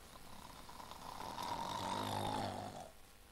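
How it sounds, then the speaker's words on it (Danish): A sleeper snores in a hammock in a kitchen during a 1960 stage play, one long, rough, drawn-out snore that swells and fades, with no talking over it. "Det er bare for den Sofie, der snorker."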